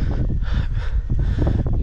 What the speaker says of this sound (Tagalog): Dito mahangin na sa taas.